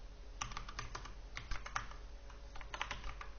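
A computer keyboard is typed on in quick, irregular clicks, a password being keyed in, close and fairly quiet with no talking.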